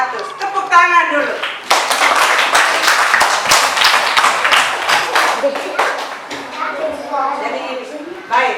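Classroom applause as schoolchildren clap hands together, a lively burst of many close claps rising after a voice and fading out, with talking heard at the start and end.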